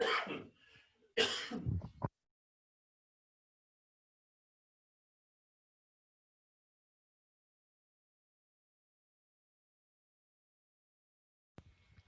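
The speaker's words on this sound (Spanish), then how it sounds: "Disculpen, estoy con un poquito de tos." A man coughs twice in quick, harsh bursts at the start, followed by about ten seconds of near silence and a faint click at the end.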